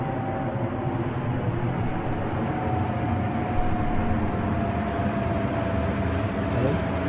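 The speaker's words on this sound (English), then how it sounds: "here comes the Airbus A380." An Airbus A380 airliner passes overhead near Windsor, a steady broad roar with a sustained engine tone, loud and continuous throughout without clear rise or fade.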